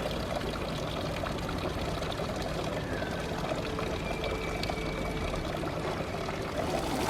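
Water pours steadily from the Fountain of the Books, a small stone neighborhood fountain in Rome, a continuous close splashing flow over outdoor ambience with no talk.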